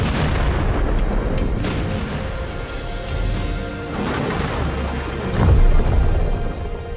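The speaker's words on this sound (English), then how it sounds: "On Wednesday night, British artillery opens fire with devastating effect." British artillery opening fire, heard as a dense stretch of heavy booms and rumbling blasts with a louder swell near the end and no talk over it.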